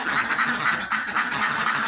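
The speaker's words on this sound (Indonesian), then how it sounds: "Ini bebek santan ini bos." Santan laying ducks on a duck farm quack steadily as a flock, a dense overlapping chorus of nasal calls close by with no pauses.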